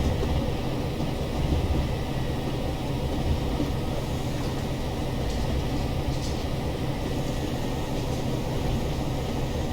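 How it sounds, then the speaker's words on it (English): A classic British diesel train in the video game Train Sim World braking to a stop, heard as a steady dense rumble and rolling noise, loud and continuous, with no talking. "And now I'm actually applying the full brakes."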